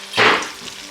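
Blended ginger, garlic and dried rosemary, fennel and basil hitting a hot pot for jollof rice, a sudden close, loud sizzle that bursts up then settles into a lower hiss.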